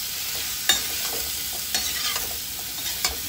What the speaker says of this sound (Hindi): इसको अच्छे से चलाएंगे ताकि इसमें मसाला अच्छे से मिक्स हो जाए। 1 मिनट तक हम इसे भूनेंगे।